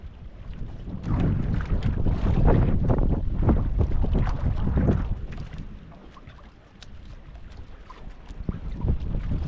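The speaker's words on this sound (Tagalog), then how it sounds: "Ang hangin." Steady gusting wind buffets the microphone with a loud low roar, rising and easing in waves, with a water and boat-like wash underneath.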